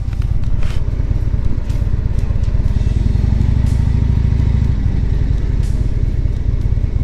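A 2011 Harley-Davidson Ultra Classic Limited motorcycle engine rumbles steadily and loudly throughout, a deep, throbbing V-twin drone that swells slightly in the middle under faint wind and road noise.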